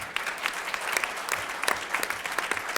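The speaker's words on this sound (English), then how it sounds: "One more round of applause, please." Audience applause at the Essex County College Dr. Martin Luther King Jr. Memorial Program, a steady, moderately loud spread of many hands clapping with individual claps standing out, running alone for nearly three seconds.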